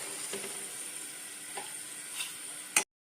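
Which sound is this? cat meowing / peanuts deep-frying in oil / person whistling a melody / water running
peanuts deep-frying in oil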